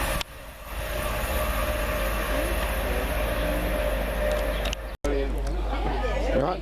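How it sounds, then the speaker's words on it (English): A Class 397 passenger train rolls into a Scottish station bound for Motherwell with a steady low rumble and rising whine, while people chatter nearby. "here's our train coming"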